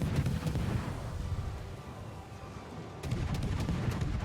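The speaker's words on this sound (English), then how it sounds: "Let's try some salvo fire for a bit." Naval gunfire from a Tier X French destroyer in World of Warships, heard as a continuous low rumble of distant cannon salvos with a fresh burst of booms near the end, no talking.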